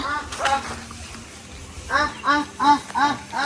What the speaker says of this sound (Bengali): আর এই যে তার হাঁস